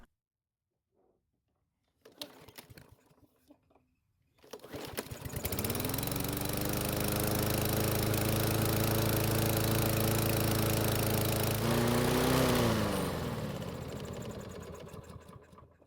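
A Yard Machines lawn mower engine is pulled over with a few rough cranking sounds, then catches and runs at a loud, steady close-up roar, its pitch rising briefly before it begins to fade.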